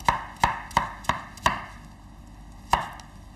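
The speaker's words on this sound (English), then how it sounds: "I've got some extra cucumber. So I'm just going to chop that." Knife chopping cucumber on a board for a cold Spanish gazpacho: five quick, sharp knocks in a steady rhythm, a pause, then one last chop, close and clear with no talking.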